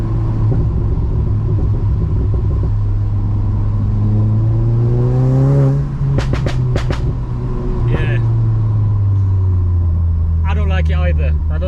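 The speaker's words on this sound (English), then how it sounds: "The only issue I got with traction off is that it's got that crazy loud overrun" Stage 3 VW GTI making about 492 PS, its engine a deep, loud rumble that climbs in pitch as it revs, broken by sharp crackling overrun pops, with someone talking over it.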